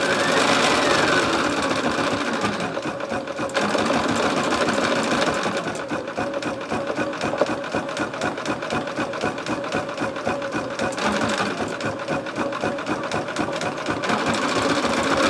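A Bernina B 790 Pro sewing machine stitches holly leaves in a steady, fast mechanical chatter that runs continuously and loud throughout, with no voices over it.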